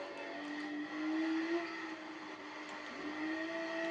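A Porsche 911 RSR drifting in Gran Turismo 7, a steady droning engine note with slowly rising and falling pitch, moderately loud and continuous with no talk.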